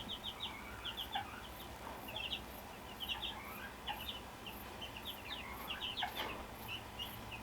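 Hens cluck and chirp softly in short bursts, scattered and overlapping, with a quiet background hum.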